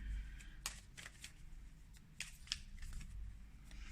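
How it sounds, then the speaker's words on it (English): A card pulled from the Return of Spirit guiding deck by Shirley Harnish: a few soft, brief papery swipes and flicks, close and quiet, with a low hum underneath and no talking. "let's pull a card."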